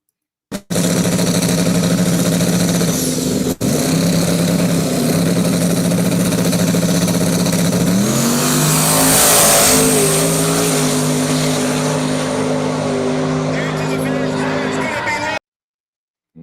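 No prep drag race cars rumble at a loud, steady idle, then an engine revs up and climbs in pitch around the middle before settling back, with a faint voice underneath.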